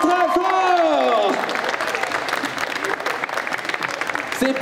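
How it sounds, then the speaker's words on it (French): Audience at a Disney concert during the Geek Unchained 2024 convention, breaking into loud sustained applause and cheering as the final sung notes fade. The clapping carries on evenly, close and dense. "On peut les applaudir très très très fort."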